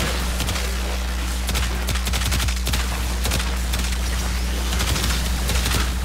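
Dense, continuous rapid gunfire from enemies shooting each other in the video game Warframe, with overlapping automatic bursts and sharp shots over a steady loud hum of game background noise.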